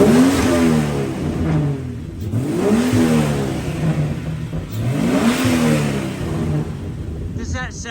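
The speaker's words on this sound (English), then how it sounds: "Does that sound like a 1943 Jeep engine to you?" A 1943 Jeep engine revs up and down repeatedly in surges, loud, rough and close, with a short clatter at the end.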